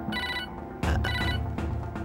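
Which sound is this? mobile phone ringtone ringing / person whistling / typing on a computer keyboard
mobile phone ringtone ringing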